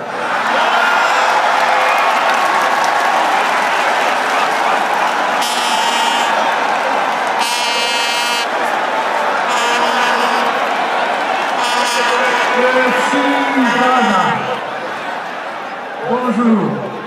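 Audience in a hall applauding and murmuring at a political investiture speech for the PRD party, a steady loud wash of clapping and crowd noise throughout, with voices and cheers rising over it.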